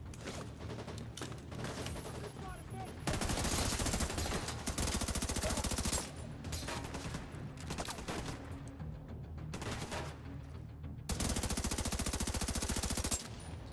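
Rapid automatic gunfire from The Division 2's Battle for Brooklyn expansion, loud bursts of machine-gun fire broken by short pauses with mechanical clanks in between.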